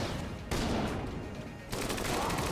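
An explosive weapon firing in Enter the Gungeon: loud bursts of rapid gunfire come in two distinct stretches, with a short quieter gap in between, no voices.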